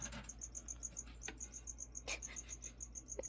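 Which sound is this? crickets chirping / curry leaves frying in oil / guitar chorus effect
crickets chirping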